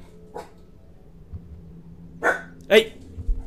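A pet dog barks indoors at night, two sharp, close, loud barks in quick succession late in the clip, after a quieter stretch with a faint earlier yelp or voice.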